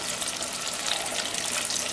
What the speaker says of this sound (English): I can tell when this is ready because it'll quit bubbling like that.